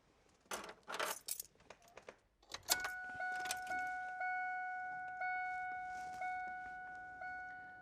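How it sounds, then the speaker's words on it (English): A car's ignition key is handled and turned to the on position, giving a few metallic jangles and clicks followed by steady dashboard warning chimes repeating at a regular pace, close and fairly quiet. "in order to pull the data out of the computer, we have to key the vehicle on"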